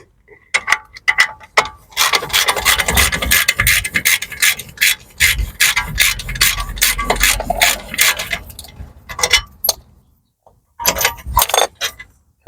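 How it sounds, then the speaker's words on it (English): A ratchet wrench turns a bolt on the front wheel bearing assembly of a BMW E92 3 Series, giving loud, close, rapid clicking bursts in several runs with short pauses between them. "Just use a ratchet on it for the rest of the way."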